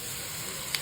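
Cut capsicum sizzling in a hot pan with a steady, close hiss and one faint brief crackle near the end.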